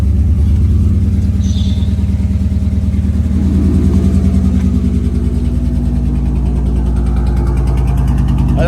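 A Ford Mustang engine holds a steady, raised idle, running evenly and loudly up close with a constant low rumble throughout.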